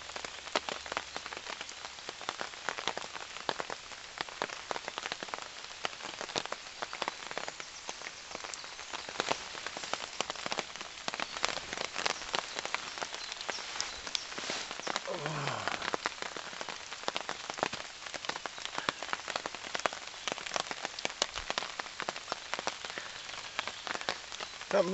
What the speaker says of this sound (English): nearly 11 hours of rain.